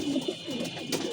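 A female pigeon gives a brief, soft, low coo close by, with no one talking.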